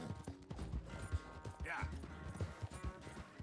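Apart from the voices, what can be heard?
horse hooves galloping in a video game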